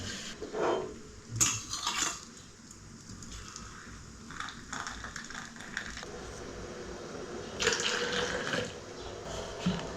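Cups are rinsed under a running kitchen tap at home, water splashing steadily with intermittent clinks and knocks of the cups against each other and the sink, close and moderately loud, with no talking.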